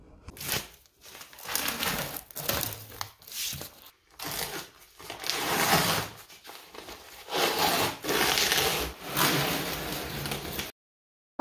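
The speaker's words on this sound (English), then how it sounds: "I used a box cutter to cut off the excess fiberglass" Excess fiberglass being trimmed from a sailboat cabin sole hatch with a box cutter and sander: close, repeated rasping strokes in irregular bursts, with no talking.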